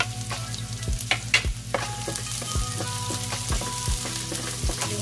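Garlic sizzles steadily in a pan for Filipino ginisang sitaw with pork, with a spatula scraping and stirring through it in a regular rhythm of repeated strokes, close and clear, without any voices.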